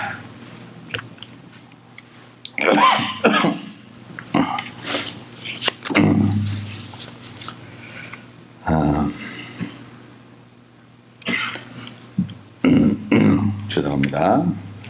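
A pastor coughs repeatedly during a Sunday sermon, with harsh bursts of varying strength clustered between pauses, close to the microphone.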